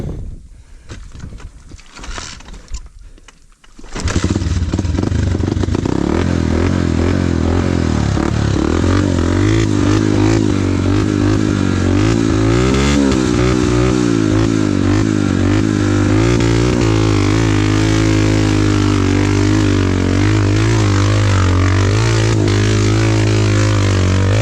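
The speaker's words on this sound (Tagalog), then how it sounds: "Hindi kaya ng makina." A motorcycle engine labors hard up a steep climb, loud and close, a strained, sustained drone with wavering pitch that kicks in after a few seconds of rough handling noise and runs on without letup.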